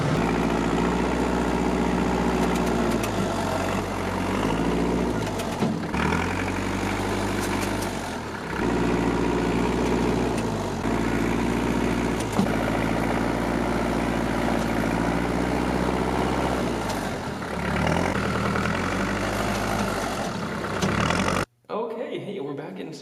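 Tractor engine running steadily and loud throughout while moving snow in deep cold, a continuous low diesel drone with slight load changes, cutting off abruptly near the end.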